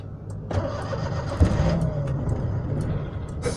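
A car engine in a video game cranks and starts with a sharp ignition, then settles into a steady mid-pitched idle with a faint rev, close and fairly loud, with no talking.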